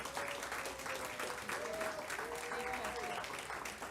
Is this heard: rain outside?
no